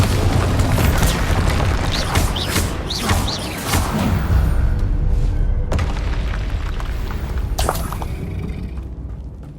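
Bombarda spell blasts in the Hogwarts Legacy video game roar as loud, continuous rumbling explosions, with layered booms and crackling bursts and a couple of sharp impacts near the end.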